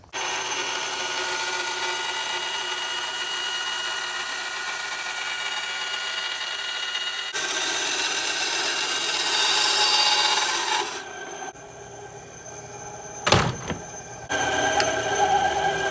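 Leather knife sheath being trimmed for a survival tool, a steady broadband rasping and scraping that runs continuously, shifts in tone partway through, then gives way to quieter handling with a sharp knock near the end; no talking.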